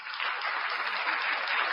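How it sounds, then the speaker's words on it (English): A studio audience on a talk show gives a steady, dense burst of applause that stays even from start to finish, with no voices over it. "They need the big applause."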